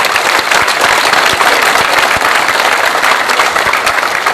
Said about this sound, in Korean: 박수로서 응원해 주시면 고맙겠습니다